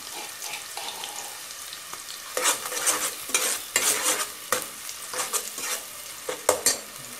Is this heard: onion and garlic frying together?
yes